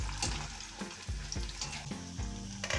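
French fries fry in oil heated on a high flame, giving a dense continuous sizzle and crackle, with occasional clunks and stirring knocks of a utensil against the pan, close and steady throughout.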